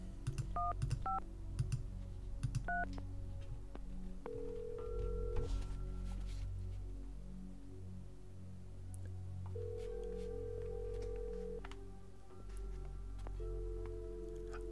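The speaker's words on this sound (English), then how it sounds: "let's make some phone calls. I'm going to call Trevor." Telephone keypad dialing in the Phantasmagoria 2 video game: a series of quick touch-tone beeps followed by several longer steady tones, faint and set over a low background hum with light ticks.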